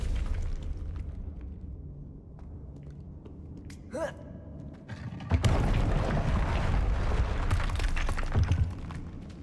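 A Confringo spell from Hogwarts Legacy goes off: after a quiet stretch with a brief whoosh, a loud burst erupts and rumbles on for several seconds.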